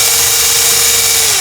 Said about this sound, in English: And I'm gonna pre-drill these holes